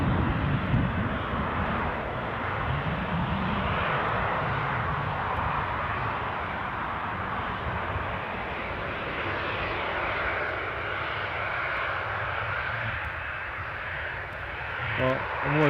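An ATR turboprop airliner approaches Newcastle airport, a steady broad engine drone at moderate distance that holds throughout with little change in loudness.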